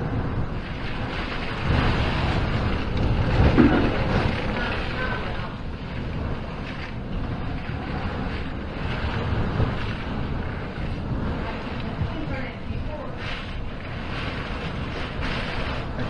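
Hurricane Dorian's wind roars steadily across Sapphire Beach on St Thomas in the Virgin Islands, a loud, continuous rushing with gusty surges and buffeting, and no voices.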